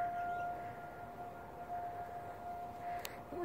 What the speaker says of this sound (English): this is the only siren that's going off right now